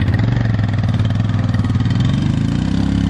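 Royal Enfield Classic 500 motorcycle engine working through sand, a loud, close, continuous throbbing thump that rises slightly in pitch toward the end.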